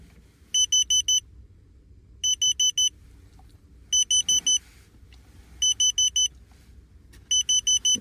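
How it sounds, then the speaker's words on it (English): A carbon monoxide detector sounds inside a camping truck in winter, repeating loud bursts of four shrill electronic beeps separated by pauses of about a second, with no talking over it. "It's my carbon monoxide detector. I don't know why that'd be going off."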